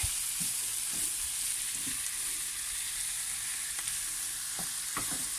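Onions and herbs sauté in a pan for an Aegean herbed bulgur dish, a steady close sizzle with a few soft scrapes of stirring, no voices.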